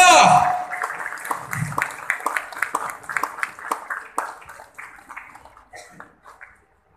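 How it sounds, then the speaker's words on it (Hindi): An audience at an inauguration ceremony with lamp lighting applauds, a brisk patter of many hands clapping that gradually thins and fades out over several seconds, with a voice heard at the start. "एक बार जोरदार तालियां"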